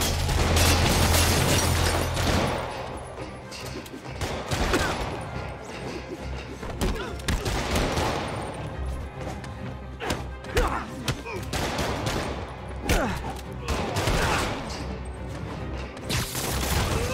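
Gunfire in the Marvel's Spider-Man Remastered video game, with dense thuds, booms and crashing bursts of a street fight under game music and shouted voices, loud and continuous throughout.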